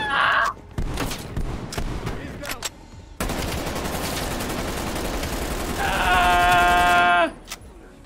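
Bursts of gunfire in the Call of Duty Black Ops Cold War campaign, loud rapid shots and sustained automatic fire dense through the middle, ending with a ringing tonal effect, with brief talk early on.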